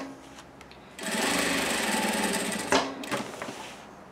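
Sewing machine stitching a fabric label onto a piece of cloth, running in a loud, steady burst of about two seconds after a quiet start, then stopping with a clunk before a brief, softer second run.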